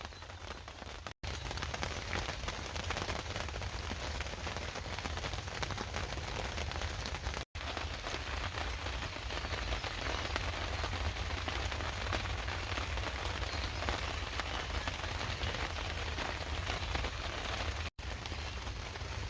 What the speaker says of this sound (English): Gotta love the sound of the rain on the top of the tent.